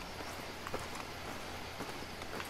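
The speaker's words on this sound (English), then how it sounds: "Man, I can hear footsteps everywhere." Footsteps in the Far Cry 2 game on Xbox One, a series of soft irregular steps like hooves or boots on ground, faint under a steady wash of ambient noise, no speech.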